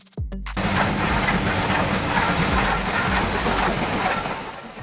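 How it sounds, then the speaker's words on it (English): Steam locomotive in the style of Thomas the Tank Engine, with a short mechanical knock at the start followed by a loud, continuous hiss of escaping steam and a low rumbling underneath. "Thomas the Tank Engine"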